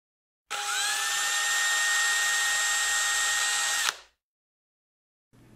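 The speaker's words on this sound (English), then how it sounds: "Drill 2 1/2-inch holes side by side, starting 2 inches from the edge of the mounting plate" A power drill bores holes in a mounting plate for a jon boat transducer mount, one loud continuous whine lasting about three and a half seconds that winds down and then stops.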